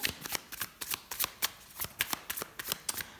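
Tarot cards being shuffled by hand, a quick run of crisp riffling flicks and soft slaps in an irregular rhythm, close and fairly quiet, with no talk.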